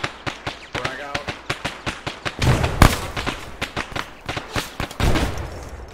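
In the military video game Arma 3, a fragmentation grenade goes off with a heavy, booming blast in the middle of a rapid, crackling run of gunshots, followed by another rumbling burst, with faint voices mixed in.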